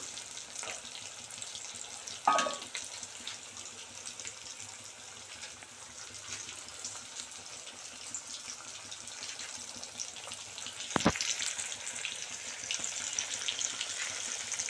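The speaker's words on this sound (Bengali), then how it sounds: "মাংসটাকেও ভেজে নেবো তার জন্য" Pieces of country (kok) chicken frying in a kadai, with a steady low sizzle and a few sharp knocks from a spoon against the pan, close by and fairly quiet with nobody talking.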